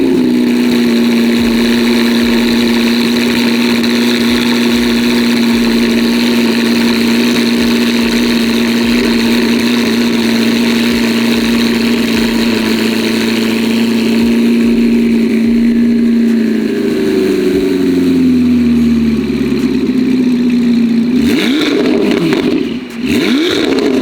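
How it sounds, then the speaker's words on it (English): A Corvette C8 ZR1 with an aftermarket catback exhaust and turbos idles with a steady, loud, deep drone close by, then the pitch shifts near the end with a brief blip and some handling noise. "Let's go start it up, hear it out right now."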